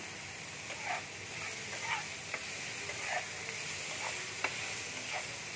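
Onions frying in a pan sizzle steadily while tomatoes and salt go in, with faint scraping stirs and soft clicks recurring about once a second.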